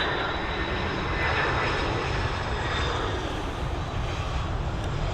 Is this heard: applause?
no